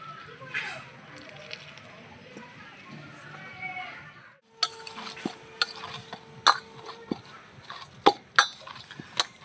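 A flour batter for paratha being mixed by hand in a bowl with oil and a little water, first as soft wet squelching and stirring, then a run of sharp clinks and taps against the bowl, close and fairly loud.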